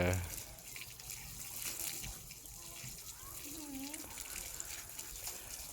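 Tap water runs steadily while a child's face is washed after playing in mud, with voices talking over the flow.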